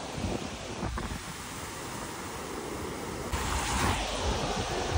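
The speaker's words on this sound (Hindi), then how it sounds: "ये जो पानी का आवाज, लहरें, बहुत मजा आता है इसमें।" Sea waves washing onto a beach in Goa at night, a continuous rolling surf wash mixed with heavy wind buffeting the microphone, growing a little louder toward the end.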